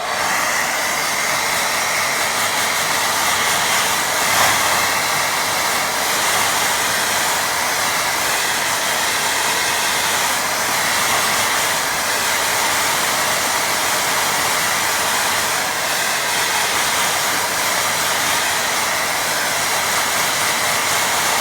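A hair dryer blows continuously on a loose watercolour painting, a loud, steady whooshing drone with no breaks from start to finish.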